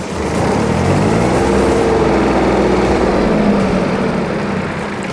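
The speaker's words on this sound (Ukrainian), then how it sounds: "Перевіримо роботу вала відбора потужності" A Yanmar Ke-30 Japanese mini tractor runs steadily with its power take-off shaft engaged, a loud continuous engine drone with a faint rising whine, no voices.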